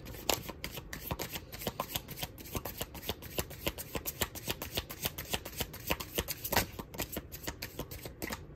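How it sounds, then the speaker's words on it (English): Tarot cards are riffled and shuffled in quick, repeated bursts of papery flicks, close up and steady, with no talking. "Let's shuffle this one more time."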